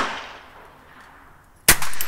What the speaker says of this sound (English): That gun's easy to shoot.